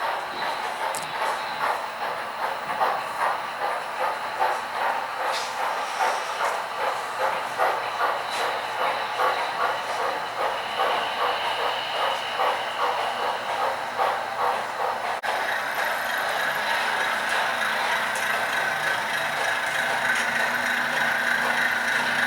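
An HO scale model Baldwin locomotive's sound system chugs in a steady rhythmic beat with hissing steam and faint clicking, continuous throughout at moderate volume.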